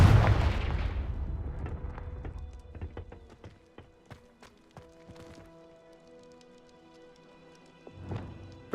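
Confringo fire spell blasts in Hogwarts Legacy: a heavy burst at the start fades into scattered sharp crackles and impacts, with another muffled boom near the end.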